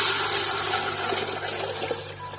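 Gram flour lassi, a liquid batter of besan and yogurt, pours steadily into a hot cooking pan of spices for kari pakora, making a continuous close splashing, sizzling rush.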